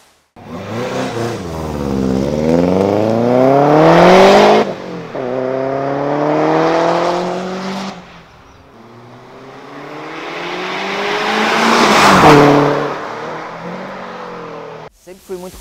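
A Subaru GT 2000 turbo revs hard in repeated rising bursts, its engine and exhaust loud and close, swelling and dropping several times before a final surge and cutoff.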